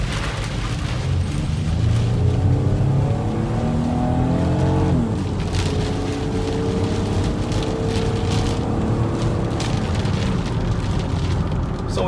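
A Ford Windstar minivan accelerates hard on a wet road, its engine note climbing in pitch through a gear change under a constant hiss of tire spray and rain, heard from inside the cabin.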